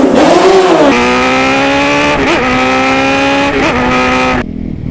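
Motorcycle engine revved hard, the throttle twisted in a rising sweep, then held at a steady high-pitched whine with two brief dips as the throttle blips, loud and close until a sudden cut at the end.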